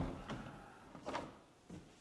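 An interior door in a spacious five-bedroom home is opened, giving a few soft knocks and creaks spread across the moment, faint and close with room echo.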